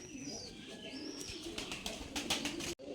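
Pigeons in a cage, a pair of Rajshahi Giribaj-type birds, cooing softly with faint low murmurs amid quiet background noise.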